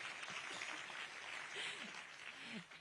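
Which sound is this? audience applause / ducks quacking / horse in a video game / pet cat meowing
audience applause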